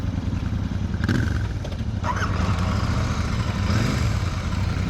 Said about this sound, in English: When the engine comes to life, it does so with a slight rumble